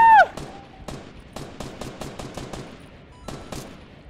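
Gunfire in the Fortnite video game: a rapid series of sharp shots in uneven bursts, moderately loud, following a brief tone at the start, with no speech.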